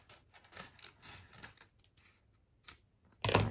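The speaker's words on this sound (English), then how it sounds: "Line it up, and then you can snip both together." Scissors cut through folded antique book pages, a run of faint, quiet clicks and rustles of paper handling, then one loud, sharp snip at the end.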